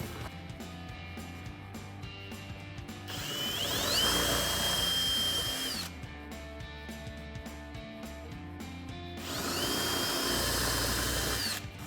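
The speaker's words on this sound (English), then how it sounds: "we're going to have to drill these additional rivets out" A power drill bores out rivets on a carbon fiber front splitter of a 2014-2019 Corvette, running in two loud, sustained bursts with a rising whine, separated by a short pause of quieter background.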